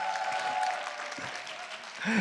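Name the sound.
parents applauding to welcome the science teacher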